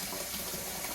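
Tap water runs in a steady, close gush while acanthopanax (ogapi) shoots and leaves are rinsed clean in a sink for samgyetang broth, with no talking over the brief splash.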